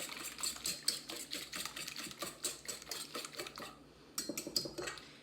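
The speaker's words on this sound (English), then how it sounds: "So just take the whisk and whisk all of those ingredients together." A whisk beats carrot cake ingredients in a bowl, producing rapid, rhythmic metallic ticks against the sides in quick bursts with a short pause near the end, close and fairly quiet, with no voices.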